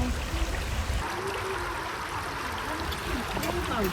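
A river flows nearby as a steady rushing, trickling wash of water, moderately loud and continuous, while people talk over it.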